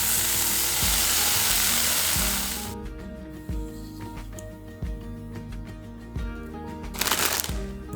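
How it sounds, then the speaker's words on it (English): Two slices of bacon fry in a pan until crispy, with a loud, broad sizzle at first that drops abruptly to a quieter crackle and pops under a steady background hum. "Fry up 2 slices of bacon until crispy."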